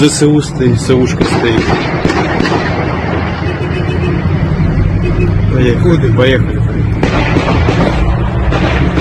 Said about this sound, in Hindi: गोलियों की आवाज आपको सुनाई दे रही है।